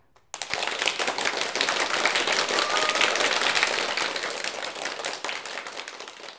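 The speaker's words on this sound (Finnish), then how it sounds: "Aplodit Aapeli Apinalle." A live audience bursts into applause for a hand-puppet monkey guest on a puppet studio show, starting abruptly with crisp, dense clapping that tapers slightly near the end.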